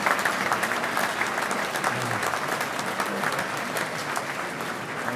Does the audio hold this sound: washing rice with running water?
no